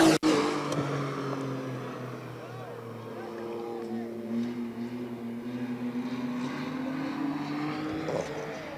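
A Mitsubishi GT3000 race car runs at a drag strip, a moderately distant engine whine rising slowly in pitch as it pulls down the track.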